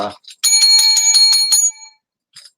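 A bell is rung in quick succession, a bright metallic ringing of about ten rapid strikes lasting over a second, followed by a faint short ring after a pause.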